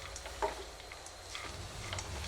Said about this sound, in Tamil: புதினா நல்லா வதங்கிட்டுருக்கு